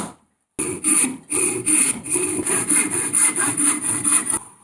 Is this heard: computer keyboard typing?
no